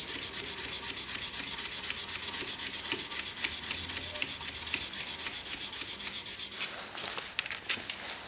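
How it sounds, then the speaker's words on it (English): A wooden pen blank barrel is hand-sanded with 240 grit sandpaper, giving a close, rhythmic rasping of quick back-and-forth strokes that runs without pause and eases off at the end. "I just stop it and I just sand along the length of the barrel again"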